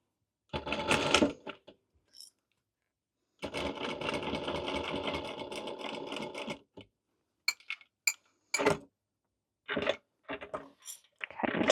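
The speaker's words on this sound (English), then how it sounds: "We're gonna back stitch at the start and the stop, but also right here and right here for reinforcement." A domestic sewing machine back stitching fabric for a Halloween costume sews in short bursts, a burst of stitching, then a longer steady run, followed by brief clicks and short starts and stops, close and clear with no talk.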